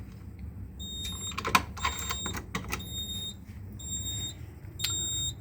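Fire alarm control panel sounding after a pull station beside it is key-activated during a home fire alarm system test: repeated high electronic beeping tones in short bursts, close and fairly loud, with small clicks and handling noise around them.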